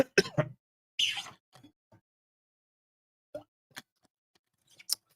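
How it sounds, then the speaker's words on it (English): A man clears his throat and coughs near the microphone in a few sharp rough bursts, followed by quieter isolated clicks and small throat noises separated by silence. "I need to cough."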